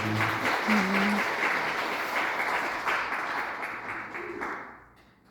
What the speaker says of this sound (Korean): 우리 하나님께 감사 박수 올려드리겠습니다